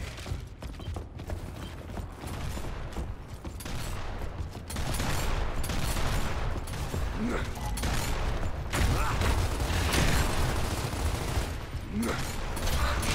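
Dense gunfire and mechanical clatter from the Gears of War video game, a continuous loud barrage of rattling shots and creaking metal, with a voice speaking briefly under the din.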